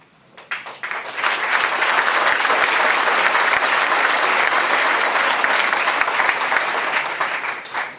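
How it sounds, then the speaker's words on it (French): A crowd bursts into loud, sustained applause to welcome Georges Ferrero, with a few scattered claps swelling within a second into a thick, steady roar of clapping that holds to the end. "vous pouvez applaudir très fort pour accueillir Georges Ferrero"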